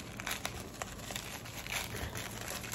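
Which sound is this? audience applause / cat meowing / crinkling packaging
crinkling packaging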